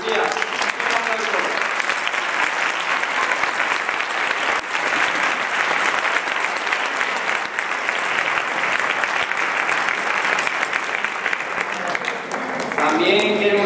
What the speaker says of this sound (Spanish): También queremos dar un fuerte aplauso a su tutor Jesús